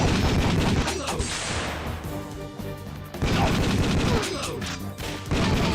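Rapid gunfire in the VR shooter Time Crisis, loud dense bursts of shots and impacts filling most of the stretch with a short lull midway, no talking.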